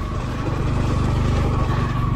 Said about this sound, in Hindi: ट्रैक्शन कंट्रोल ऑफ करने के बाद बाइक थोड़ा चढ़ पा रही है